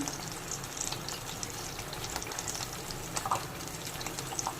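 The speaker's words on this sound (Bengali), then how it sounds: "অল্প একটু জল দেব" Water poured into a hot pan of oil with cumin tempering and ginger-green chili paste, making vegetarian potol dorma (stuffed pointed gourd); a steady, fairly loud rushing hiss runs throughout with no talking.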